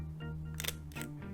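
A camera shutter fires at a 1/60 second shutter speed, giving quick paired mechanical clicks close up against a low steady hum.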